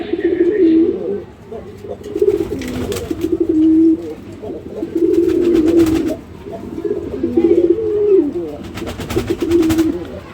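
Golla pigeons, original Golla crosses, give repeated deep rolling coos in close, loud phrases, with rustling and fluttering bursts between calls.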